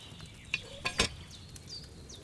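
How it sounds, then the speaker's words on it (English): Wine boiling in a cauldron over a flame in Kingdom Come: Deliverance II, heard as a soft sizzling bed with a few sparse bubbling pops, fairly quiet and close. "Hear that bubbling? It's boiling."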